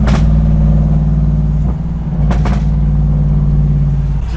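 A tuned Audi S6 C7.5 with a Stage 2 remap, around 600 hp, running in sport mode: a loud, close, deep engine drone that holds steady with a couple of brief sharp blips.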